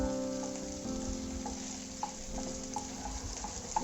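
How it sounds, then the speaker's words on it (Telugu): Chilli chicken drumsticks with capsicum cubes and sliced spring onions are stirred in a hot pan, giving a steady sizzle of frying with soft scraping taps of the spoon, close and continuous. "అలా ఒకసారి అన్నీ కలిసేలాగా తిప్పుకున్నాను"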